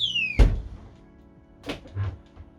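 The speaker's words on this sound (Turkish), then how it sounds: "Sürgülü bir kapısı var." A sliding shower door aboard a Beneteau Oceanis 48 yacht bumps and thunks: a sharp knock near the start, then two softer sliding thuds a second later, with a faint squeal fading out at the very beginning.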